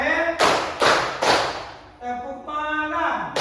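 Children in a class chanting game clap hands in three sharp, loud, evenly spaced claps, then voices chant and sing closely over the rhythm.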